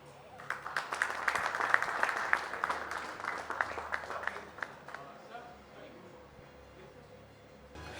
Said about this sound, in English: A huge round of applause for Kia Ceros.